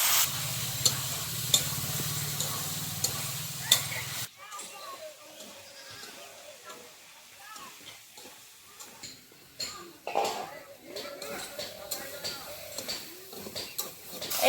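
Chicken frying with Kashmiri chili and green chili in a pan, a soft sizzle with scraping stirring strokes, loudest early on then quieter and irregular.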